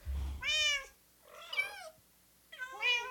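A cat in the video game Minecraft, version Beta 1.14, gives three clear, close meows spaced about a second apart, with faint low rumbling under the first.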